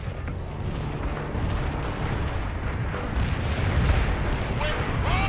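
Mortar strike explosions in the war game World in Conflict: a dense, continuous roll of booming blasts and rumbling impacts, loud and sustained, with battlefield voices mixed in.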